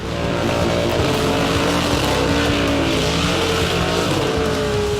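A muscle car engine revs hard and continuously at a burnout competition, loud and close, with a thick roaring drone, rising and falling pitch and tire squeal under it.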